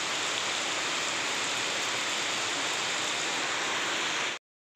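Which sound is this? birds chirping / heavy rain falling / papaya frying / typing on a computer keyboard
heavy rain falling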